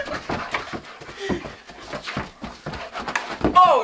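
A dog pants and whimpers excitedly, breathy huffs and soft whines repeating at close range, ending in a brief high whine.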